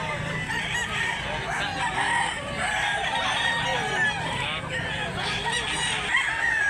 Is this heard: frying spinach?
no